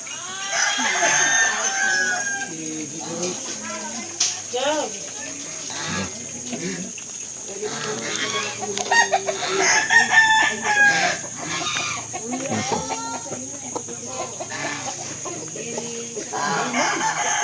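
A rooster crows repeatedly amid a busy farmyard, with clucking hens and other fowl calling nearby and some background chatter.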